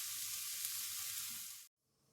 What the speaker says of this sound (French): Et je laisse encore mijoter 5 minutes.